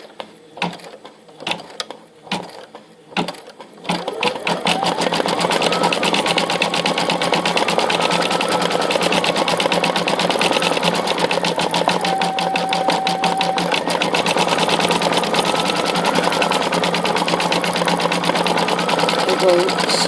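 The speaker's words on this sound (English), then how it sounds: "It's gonna sew for approximately 1 minute." A Brother V5 sewing machine starts up after a few button beeps and clicks, then sews in a loud, steady, rapid mechanical whir that runs on without pause, with a faint tonal whine partway through.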